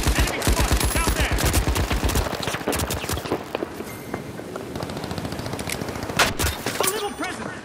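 Rapid bursts of automatic gunfire and single shots from the video game The Finals, loud and close, crackling in dense volleys through the whole stretch with a few sharp louder cracks near the end.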